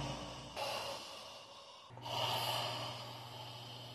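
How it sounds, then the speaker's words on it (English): Heavy, creepy breathing with snorting inhales and sighing exhales, two or three long breaths at close range with no talking. "he keeps making this breathing sound that's really creepy"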